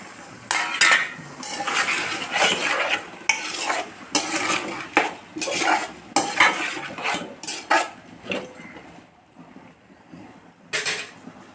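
Vegetables for a vegetable pulao are stirred back and forth in a pot, with loud rhythmic scraping and clanking of the spoon against metal in repeated bursts over a soft sizzle, easing off toward the end.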